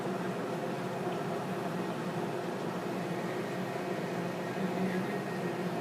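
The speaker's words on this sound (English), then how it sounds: "If you hear a lot of noise in the back, it's the dishwasher going." A household dishwasher runs steadily in the background, a constant low, even wash of noise that holds without change throughout, with no talk over it.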